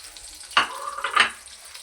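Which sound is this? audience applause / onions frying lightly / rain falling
onions frying lightly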